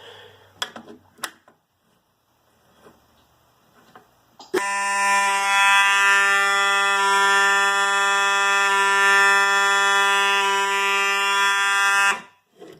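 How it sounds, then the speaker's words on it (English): After a few clicks and taps, a smoke detector's shrill, steady alarm tone blares loudly and continuously for several seconds before cutting off abruptly. "let's test the smoke detector real quick"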